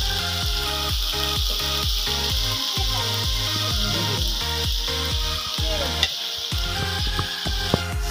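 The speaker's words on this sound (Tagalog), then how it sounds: "Prito ulit tayo ng tokwa" Steady crackling and sizzling of tofu frying in hot oil, close and continuous, with occasional stirring scrapes and pops.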